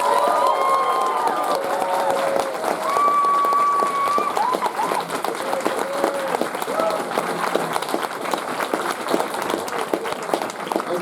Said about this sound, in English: Let's have a round of applause for all the gophers.